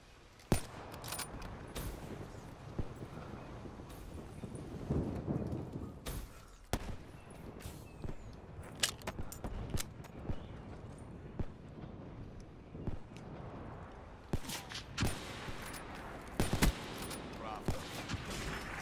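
Sniper rifle shots in a Black Ops 3 team deathmatch, sharp reports scattered across the clip amid game noise and bursts of other gunfire, with talk over the top.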